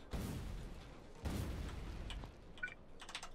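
Grenades exploding while clearing trees in the video game Factorio, two deep booming blasts followed by a scatter of smaller crackling pops, moderately loud with no talk.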